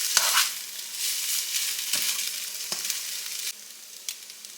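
Drained ramen noodles dropped into a hot pan, giving a loud initial sizzle that settles into a steady frying hiss, punctuated by several spatula scrapes and taps as the noodles are stirred, with no talking.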